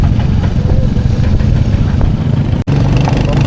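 Motorbike engine droning steadily at close range while riding a rough road under construction from Leh to Diskit in Ladakh, a continuous rumbling hum with faint clatter and a momentary dropout near the end.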